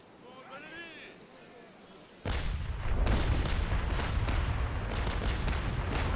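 A warship's port-side cannons open fire in a naval combat game: after a quieter stretch with a voice, a sudden loud broadside erupts into repeated heavy booms that keep rumbling on.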